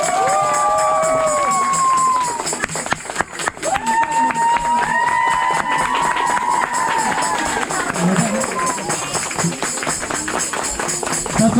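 After a cake is cut at a church Christmas celebration, the congregation breaks into dense rapid clapping and cheering, with high voices and whoops rising over the crowd; a voice speaks through part of it.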